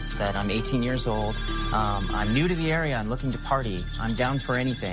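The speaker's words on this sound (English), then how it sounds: "now the phone is ringing right now because of just this ad" A prepaid phone rings with calls prompted by an online ad, its tone running steadily beneath a continuous voice speaking over it.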